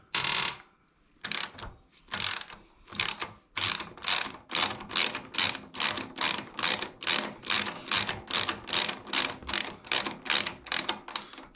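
A socket wrench ratchets on the swingarm link bolt of a 2022 Royal Enfield Himalayan motorcycle, a steady series of close, crisp clicking strokes repeated rhythmically about twice a second.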